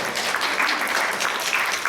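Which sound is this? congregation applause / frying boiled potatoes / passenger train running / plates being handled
congregation applause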